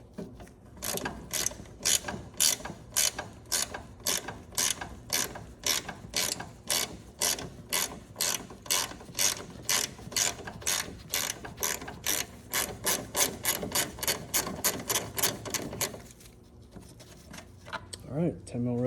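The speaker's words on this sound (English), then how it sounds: "use the socket, ratchet" A socket ratchet loosening radiator bolts on a 1984 Mazda RX7 GSL-SE, close rapid clicking in repeated bursts of back-and-forth strokes, quickening near the end before a brief pause, with a voice talking under it.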